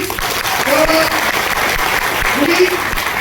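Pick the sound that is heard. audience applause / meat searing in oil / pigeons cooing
audience applause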